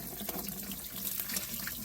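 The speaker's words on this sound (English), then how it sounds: "let the coolant drain right from here" Coolant drains from a disconnected hose on a Honda CR-V, a steady splashing trickle of liquid, close and continuous.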